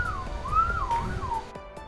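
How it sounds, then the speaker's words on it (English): A person whistles a short, clear gliding tune close to an iPhone recording voice memos, a single wavering phrase that rises and falls before stopping. "The easiest way is to go into voice memos and record yourself whistling."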